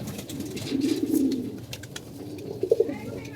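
A pair of egg-laying pigeons coos nearby: a soft, low, throaty rolling coo swells for about a second, then a few shorter coos follow over faint background noise.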